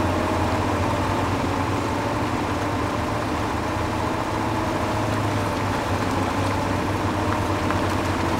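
A truck engine idles in the off-road driving game MudRunner, a steady low, rumbling drone that holds evenly from start to finish with no talking over it.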